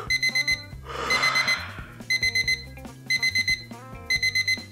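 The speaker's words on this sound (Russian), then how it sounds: "Будильник." A digital alarm clock beeps in fast repeating bursts of four tones, sounding over a background of music in a morning wake-up scene.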